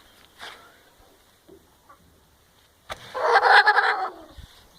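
A free-range country chicken on a poultry farm gives a loud burst of clucking and squawking after a few quiet seconds of faint scattered sounds.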